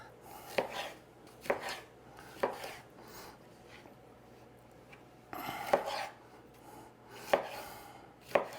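Knife chopping through pork on a board to make bite-sized chunks for grilled Chinese-style sweet and sour pork, a series of sharp, close cuts spaced about a second apart with quiet handling in between.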